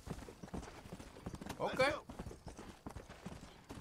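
Horse hooves clip-clop in the video game Red Dead Redemption, a steady run of quick hoofbeats under a voice as he talks over the play.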